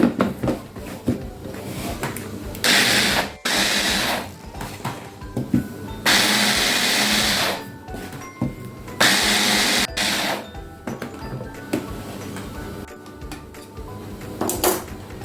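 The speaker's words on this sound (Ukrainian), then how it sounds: "І зараз перекручую нашу красоту блендером." A blender grinds garlic and pepper in several loud bursts, starting and stopping repeatedly, with clattering kitchen noises and brief pauses between pulses.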